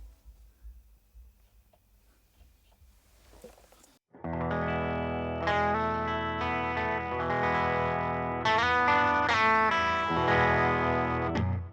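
An electric guitar played through a Peavey Vypyr X1 practice amp on its Fender Twin amp model begins after a few seconds of quiet handling noise, then rings out in loud, sustained chords with a shimmering effected tone.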